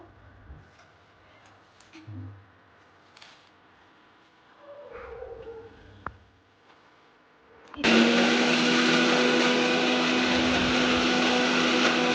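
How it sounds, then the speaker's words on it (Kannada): A mixer grinder blitzes coriander, mint, green chillies, cashews, ginger, garlic and onion; after a few quiet clinks and handling noises, the motor kicks in loud and close and roars steadily to the end. "ಒಂದು ಸ್ವಲ್ಪ ಕೊತ್ತಂಬರಿ, ಪುದೀನ, ಮೆಣಸಿನ್ಕಾಯಿ ಒಂದು 12, ಗೋಡಂಬಿ, ಶುಂಠಿ, ಬೆಳ್ಳುಳ್ಳಿ, ಒಂದು ಸ್ವಲ್ಪ ಈರುಳ್ಳಿ, ಇದನ್ನೆಲ್ಲ ಹಾಕಿ ರುಬ್ಕೊಳ್ಳೋಣ ಫಸ್ಟು"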